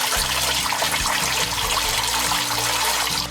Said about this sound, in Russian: Сейчас включим воду и проверим.